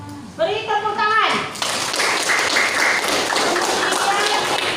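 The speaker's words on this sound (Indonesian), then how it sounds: "Beri tepuk tangan." A classroom audience of students bursts into dense, steady clapping that lasts several seconds, right after a teacher speaks briefly.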